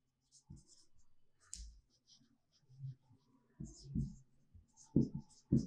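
Chalk or marker writing on a board during a maths lesson, short scratchy strokes and taps interspersed with someone speaking close by.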